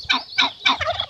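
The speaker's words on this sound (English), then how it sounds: "Turkey." A turkey gobbles in three quick rattling bursts followed by a shorter warbling call, close and clear with no other sounds.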